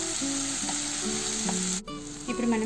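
Green peas and chopped coriander frying in a pan for samosa filling, a steady close sizzle with soft stirring scrapes, a brief dip near the end before the hiss resumes.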